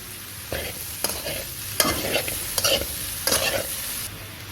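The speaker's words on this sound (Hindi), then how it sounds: "इन्हें आपने ज़्यादा कुक नहीं करना, जस्ट सौते करना है इनको, लाइट सा कुक।" Chicken jalfrezi ingredients are lightly sautéed in a pan, with steady frying sizzle broken by repeated scraping stirs of a spoon, roughly one every second, close by and with no voices.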